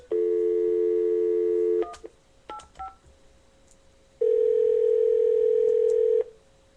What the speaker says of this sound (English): let's get this badass on the phone and we'll get this thing done